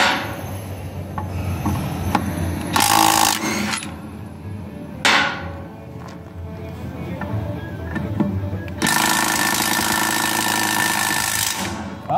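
A power impact gun removes the wheel rims from a custom flatbed trailer, with loud bursts of rattling hammering separated by pauses, close by, while people talk over it.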